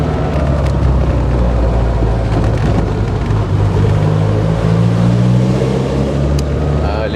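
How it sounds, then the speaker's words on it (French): A Lotus Elan's engine hums loudly and steadily as the car drives through a tunnel, with the rising note echoing off the walls and a faint voice underneath. "Ah, l'écho de la musique du moteur dans un tunnel."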